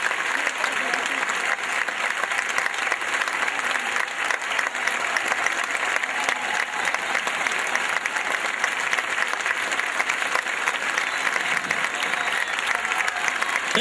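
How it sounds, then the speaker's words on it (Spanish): Dense, loud, continuous applause from a school concert audience honouring the children's teachers, with voices mixed into the clapping throughout. "los profesores de los chicos, un aplauso para ellos"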